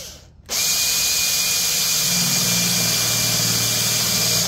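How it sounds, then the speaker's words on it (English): A power drill starts after a brief quiet moment and runs steadily at high speed, loud and close, its pitch dropping slightly as the bit bites into the wood of a child's rocking chair. "So I'm going to drill my hole there."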